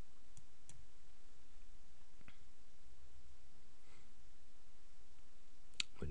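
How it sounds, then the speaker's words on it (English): A computer mouse clicks to publish a WordPress.com page: a few soft, sparse clicks close by over a steady quiet hiss, with no talking. "Click publish."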